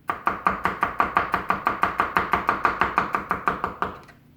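A knife thinly slices bulbs on a cutting board in quick, even strokes, about twenty crisp close chops in a steady rhythm that stops abruptly.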